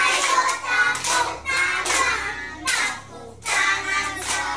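Children clap their hands together in a kindergarten class, several bursts of crowded, rapid clapping separated by short pauses, fairly loud and close.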